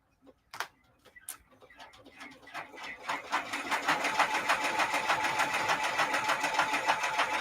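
An embroidery machine stitches a design onto a trucker hat, starting with a few isolated clicks, then settling into a fast, steady mechanical rattle that grows louder and stays close.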